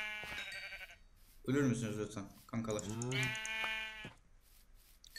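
Sheep bleat in the Minecraft Hexxit modpack, several drawn-out bleats one after another, close and clear, with someone talking between and over them and keyboard tapping.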